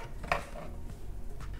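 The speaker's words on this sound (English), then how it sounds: "Put everything inside a mixing bowl." Shredded shrimp and other ingredients go into a mixing bowl in a kitchen, with a soft clink of utensil on bowl and quiet scraping, faint and close.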